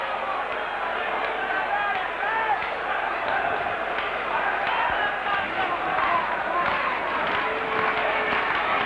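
The crowd at a 1984-85 Watford v Everton football match roars as it appeals for a penalty after Barnes goes down. The noise is loud, sustained and distant, with a commentator talking over it.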